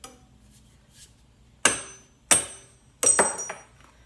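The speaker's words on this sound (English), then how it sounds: "hit it with a hammer" Three sharp, ringing metal strikes of a hammer knocking a saw blade loose, with the last strike doubling into a quick rattle, loud and close with quiet gaps between.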